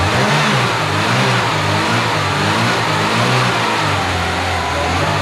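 An abandoned Volvo 340's car engine revs loudly and steadily for several seconds at close range, a sustained droning roar without a clear rise and fall.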